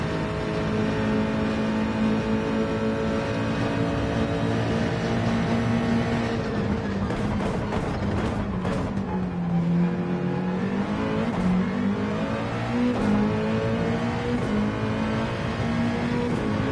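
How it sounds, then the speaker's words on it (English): A race car engine drones and revs continuously in a racing video game, a loud, steady whine that drops and climbs again as the car shifts and accelerates, with no talking. "Could go for the overtake here if I revved it out."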